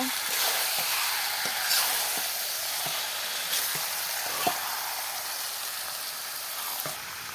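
Raw chicken pieces frying with fried spices in a pan, giving a steady close sizzle and hiss with occasional faint stirring taps, no talk.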